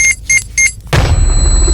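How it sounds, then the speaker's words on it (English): A flashbang grenade goes off in an audio drama: three quick electronic beeps, then a loud, close burst that leaves a sustained high ringing over rumbling noise. "Dare pulled a pin and tossed a flashbang"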